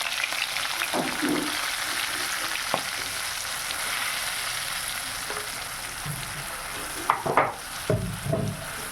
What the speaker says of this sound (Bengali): মশলাটা তেলে দিয়ে একটু নাড়িয়া খাড়িয়ে সব করে জল দিতে লাগবে